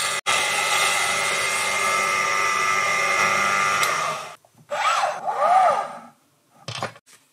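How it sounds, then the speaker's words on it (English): A Proxxon PD 250/e lathe drills a countersink into a coat hook's back plate: the drill whirs steadily for about four seconds, then stops; a few short, rising bursts of drilling follow with brief pauses between them. "I drilled a countersink into the back of the plate so the head was completely hidden"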